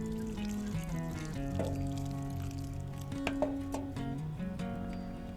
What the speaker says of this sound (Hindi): और अब मैं इसमें पानी दूंगी।